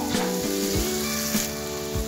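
Chopped onion and tomato sizzle in a hot pan for green katori chaat, with scraping stirs and soft clacks of the spoon over a steady frying hiss, close and moderately loud.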